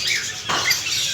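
Breeding pair of grey cockatiel parrots calling, a couple of brief high chirps and squawks close by over a soft background hiss, with no talking.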